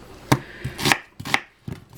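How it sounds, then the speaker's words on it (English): Onions are chopped with a knife on a board in a home kitchen: four or five sharp, close knocks in an uneven rhythm, with no talk. "So I'm just going to chop up these onions."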